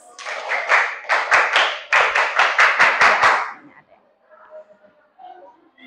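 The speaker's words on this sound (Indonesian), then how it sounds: "Tepuk tangan untuk kelompok luas." A children's classroom claps for a presenting group, a rhythmic burst of unison clapping lasting about three seconds, followed by quiet murmuring voices.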